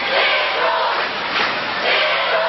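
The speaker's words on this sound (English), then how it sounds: "Entire side of the bleachers here on their feet, cheering for Central" A basketball crowd in the bleachers roars and cheers for Pike Central at a 1999 district tournament game, a loud sustained wall of voices swelling and falling.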